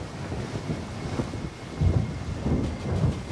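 Thunder rumbles through a thunderstorm with steady rain and wind noise, low booming swells rising near the end, loud and continuous with no voices.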